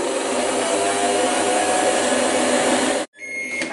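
Thermomix TM21 food processor running steadily at speed 4 while heating to 90 degrees, a loud continuous motor whir that stops abruptly near the end before a faint hum resumes.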